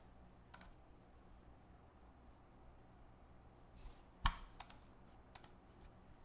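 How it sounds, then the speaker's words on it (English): Sparse computer mouse clicks sound at keyboard level, a few faint, sharp ticks scattered over a quiet background, with one louder snap among them. "This is how loud the mouse clicks are at keyboard level."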